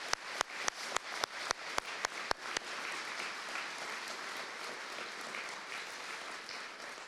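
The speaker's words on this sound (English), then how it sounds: "let's give them a round of applause." At a police awards ceremony, sharp amplified claps from a single pair of hands ring out in an even rhythm for about two and a half seconds. A softer, sustained round of crowd applause for the cadets follows and carries on to the end.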